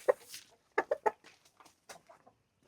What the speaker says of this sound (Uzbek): Bu tomonda ham jo'jalar bor, a?